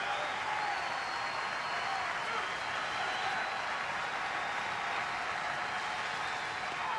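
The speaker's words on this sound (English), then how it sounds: "Crowd comes alive for Coleman." A baseball stadium crowd of over nine thousand at a college game applauds and cheers steadily, a dense continuous roar with no pauses.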